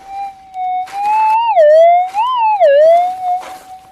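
Metal detector tone sounding over a gold nugget target in hot, mineralised ground: a loud steady electronic whine that rises and warbles in pitch as the coil sweeps the target, with bursts of scraping noise in between.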